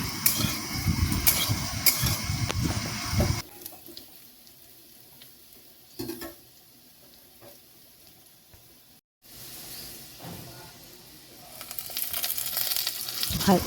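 Potatoes sizzle and fry in a pan for a ridge gourd and poppy seed dish, loud at first, then a quieter sizzle with occasional stirring clatter.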